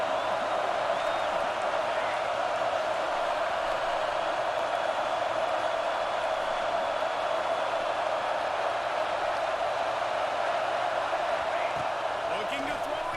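A steady, dense wash of stadium crowd noise in College Football 25, a constant loud roar without pauses, with a commentator talking over it.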